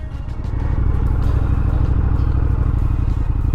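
Indian FTR 1200 motorcycle ridden along a scenic dirt trail, its loud engine droning steadily with a rough, throbbing rumble close to the mic and rising slightly in the first second, with no voices.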